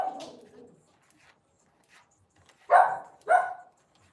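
A pet dog indoors lets out two sharp, loud barks close by after a few seconds of near silence, preceded by a softer vocal sound.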